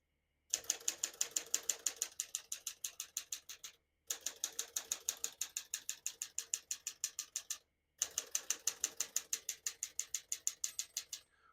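Rapid, steady keystrokes clatter from a 1955 Smith-Corona Silent-Super portable typewriter, heard alone in three close bursts of typing separated by short pauses.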